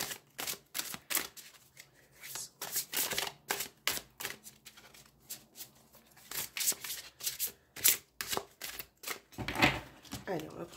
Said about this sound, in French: Donc on va mélanger un petit peu le jeu et puis on va regarder dans la coupe.